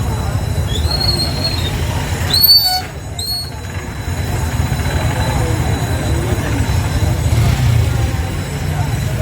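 A train rumbles past at close range at a railway crossing in Ishwardi, Bangladesh, at night, its wheels squealing in high, piercing bursts early on, then a steady heavy roll continues throughout.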